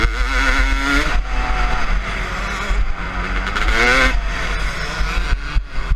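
A Honda CR 250 motorcycle engine revs hard and close, its pitch sweeping up and down in repeated loud surges over a steady, throaty roar.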